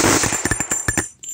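StG 44 assault rifle fired in a WW2 video game: a short, loud burst of about eight rapid cracking shots, closely spaced, that cuts off abruptly and leaves a brief fading tail.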